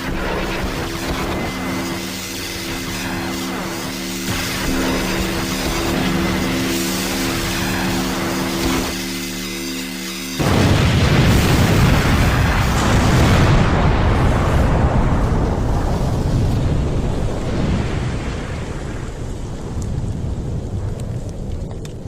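A massive explosion erupts suddenly after steady tonal music, releasing a loud, deep, roaring blast that rumbles on and slowly fades over about ten seconds, like thunder.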